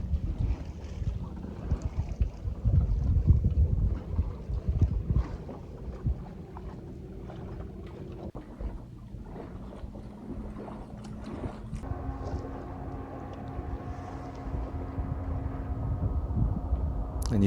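A sailboat moves across a high mountain lake at about 8,600 feet in steady wind, with continuous broadband wind and water rush at moderate level and brief tonal flutter, likely from the custom sails, in the latter half; no talk.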